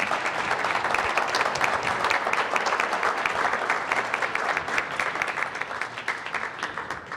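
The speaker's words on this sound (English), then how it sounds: "Let's give our candidates a round of applause." An audience at a county district debate forum applauds the candidates, loud, dense and continuous clapping filling the room for several seconds.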